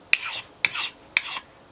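Three rasping strokes of a knife blade, nicked from chopping wood, drawn across a rough sharpening stone, each a short scraping pass with a sharp onset, evenly spaced and close, with no talk.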